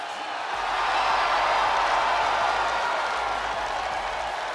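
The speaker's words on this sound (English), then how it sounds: "Listen to this ovation." Arena crowd at a WWE wrestling event giving an entrance ovation, a broad roar of cheering and clapping that swells after a brief moment and holds loud and steady.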